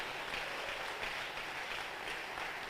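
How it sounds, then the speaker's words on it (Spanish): A church congregation applauds in steady, diffuse clapping that fills the whole moment, fairly faint and distant, with no voices over it. "Dele un aplauso fuerte al que vive en esta hora."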